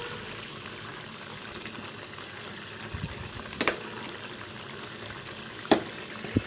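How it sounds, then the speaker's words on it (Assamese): A koi fish curry with mustard simmers in a pot, giving a quiet, steady bubbling close by, with a few sharper pops and clicks now and then and no one talking. "এই চাওক কি ধুনীয়াকৈ উতলি আছে"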